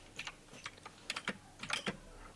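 Quiet, close keyboard typing: irregular bursts of sharp key clicks in small clusters with short pauses between.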